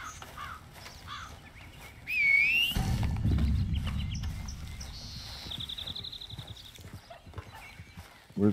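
Horse hooves clip-clop in the open world of Red Dead Redemption 2, a moderate steady trot heard amid game ambience with crow caws and a brief whistle, no talking.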